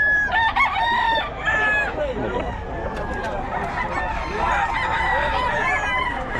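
A sweater-breed gamefowl rooster crows repeatedly at close range, its calls rising over clucking from other fowl and a busy farm background, with people talking nearby.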